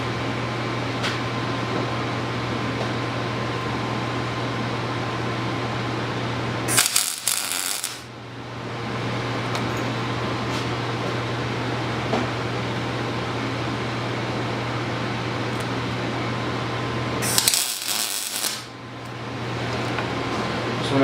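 A bracket being welded on a Mini Stunter 125 bike build gives a steady close crackling buzz over a low electrical hum, with two brief louder bursts followed by short pauses.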